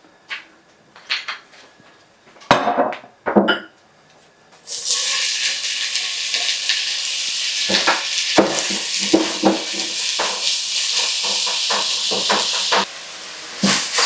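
Onions hit hot olive oil in a pan and break into a loud, steady hiss that runs for several seconds, after a few sharp knocks and clatters, with occasional pops and scrapes on top.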